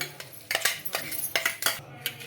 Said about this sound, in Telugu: ఇంకా ఇలా వేసుకొని ఒకసారి మొత్తం కలుపుకుందామండి